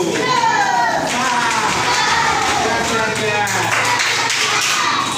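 Children clapping hands together in a classroom activity, rhythmic claps among lively kids' chatter and an adult calling out cues, a busy continuous crowd of young voices throughout.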